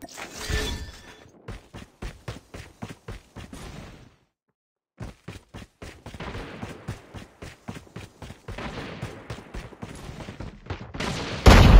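Rapid bursts of gunfire crackle in a Call of Duty Mobile match, shots spaced in quick volleys with a brief silent gap midway, then a sharp loud report at the end.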